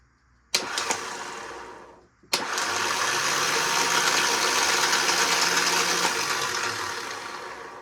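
Revived starter motor cranking a Dodge W350 12-valve Cummins engine, a short burst of cranking, a pause, then a longer sustained whirring crank that tapers off, loud and close.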